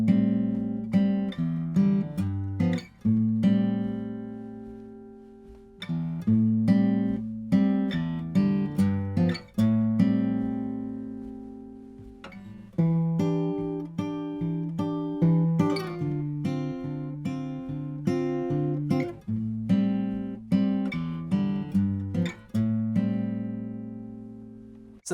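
Fingerstyle acoustic guitar playing the groove of a 1971 song, plucked notes and chords in repeating phrases with short pauses between them, played solo without any voice.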